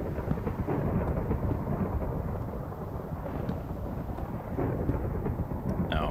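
Minecraft thunderstorm in a multiplayer survival game: a long, deep rumbling roll of thunder with a rain-like wash, loud and continuous for about six seconds, with faint interface clicks.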